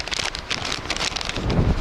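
Steady wind buffets the microphone, a continuous rough rumble with broadband hiss that swells louder toward the end.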